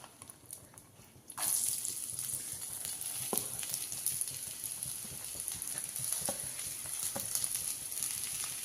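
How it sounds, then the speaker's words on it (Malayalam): Sliced onions hit about three teaspoons of hot coconut oil for an egg curry, a quiet pause giving way to a sudden, steady sizzle with occasional clinks of stirring. "അതൊന്ന് ചൂടായി വരുമ്പോൾ സബോള ഇട്ട് കൊടുക്കട്ടെ."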